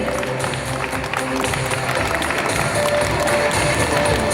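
Dense, steady applause fills a school graduation ceremony for PYP 5 students, sustained and fairly loud throughout with a crowded, indoor hall feel and no clear individual claps standing out.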